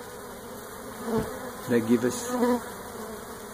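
Steady bee buzzing hums throughout, with a few brief spoken words rising over it midway.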